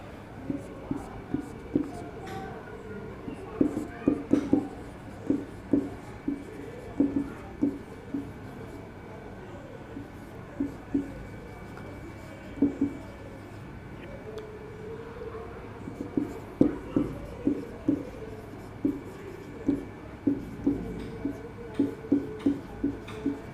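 A pen or chalk writes out a point during a physics lesson on dimensional analysis, giving repeated short taps and scratches in uneven bursts over a quiet room hum, with no talking.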